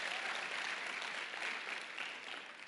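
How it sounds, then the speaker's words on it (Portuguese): Audience applause at a church conference, a dense, even patter of many hands clapping at a moderate distance for a few seconds before easing slightly. "Pode aplaudir."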